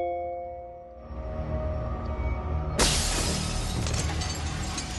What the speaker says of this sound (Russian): На улицах лежали разбитые стекла.